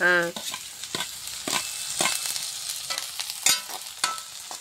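Onions with curry leaves being sautéed for kothu parotta in a pan, a steady close sizzle broken by several sharp stirring and scraping strokes, with no talk.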